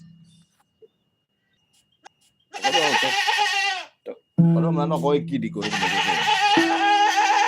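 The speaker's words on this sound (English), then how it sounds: "There's a goat here I want to sing also." A goat bleats loudly and repeatedly close by, long wavering cries with brief gaps, with human voices or singing mixed in alongside traditional nyatiti music.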